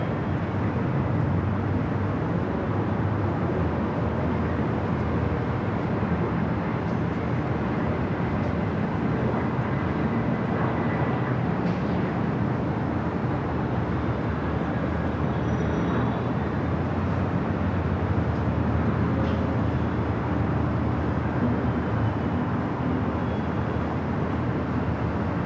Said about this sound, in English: Got that NetJets Cessna coming in from San Jose,